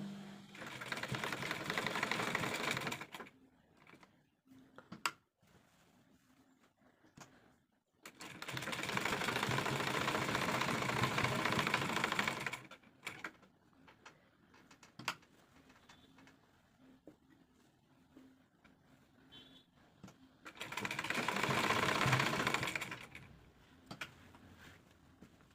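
A sewing machine double-stitches a neck design on a frock in three separate bursts of steady whirring, with quiet pauses between them and a pigeon cooing softly in the background.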